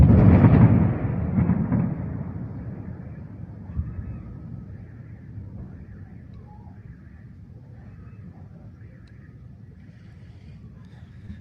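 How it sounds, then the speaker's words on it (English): Wartime explosions over Tabriz, Iran, with fighter jets: a heavy booming blast opens, then a rolling rumble decays into a distant low roar that lingers. "you can listen to the sound of the explosions and the fighter jets here"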